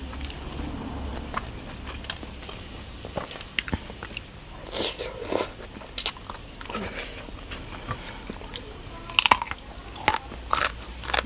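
Crisp jar-baked chicken is bitten and chewed close to the mic, giving repeated crunchy bites and wet chewing in an irregular rhythm, with louder crunches toward the end and no talk.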